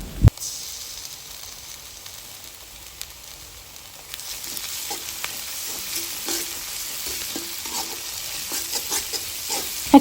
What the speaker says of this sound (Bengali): এখন নেড়ে চেড়ে ভালোভাবে কষিয়ে নিব